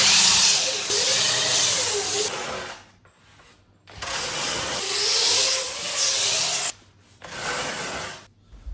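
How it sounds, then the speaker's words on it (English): Sanding carbon fibre laminate over a foam board: long, harsh abrasive rubbing strokes, loud and close, broken by a couple of brief pauses. "that sanding is going through carbon"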